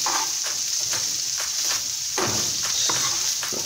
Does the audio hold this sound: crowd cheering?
no